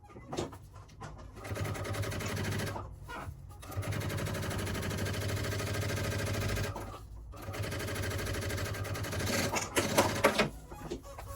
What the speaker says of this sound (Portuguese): E com o pezinho de máquina unir o fundo.